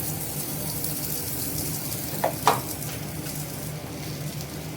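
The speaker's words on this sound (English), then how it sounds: "Into this, I'll add medium sized onion" Medium-sized onion frying in coconut oil, a faint steady sizzle with a couple of brief clicks partway through.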